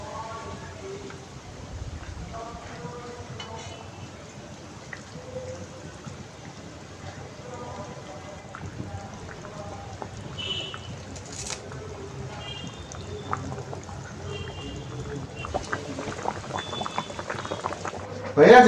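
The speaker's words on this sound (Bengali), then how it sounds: "ঝোলটা ফুটে উঠেছে, বেগুনটাও সিদ্ধ হয়ে গেছে" Fish and eggplant curry simmers in a pot with a quiet, steady bubbling and popping, while people talk softly nearby.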